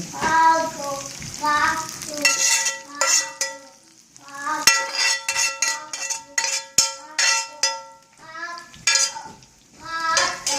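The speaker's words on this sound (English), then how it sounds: "the plate is very hot, so it's nice and sizzling" Garlic shrimp sizzles on a hot plate while metal utensils scrape and clink repeatedly in an irregular rhythm, close and fairly loud.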